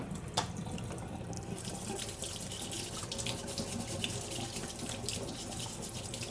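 Cold tap water runs steadily into a kitchen sink for washing dishes, a continuous close hiss and splash with no talking.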